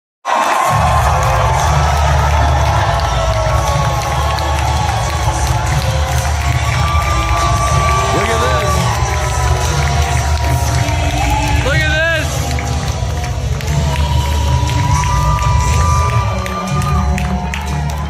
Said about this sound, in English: Look at this crazy pop Pierre gets from the crowd.